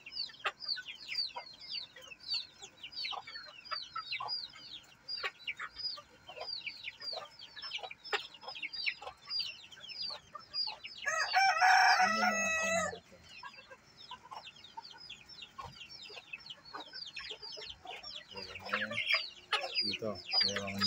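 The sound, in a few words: chickens clucking and a rooster crowing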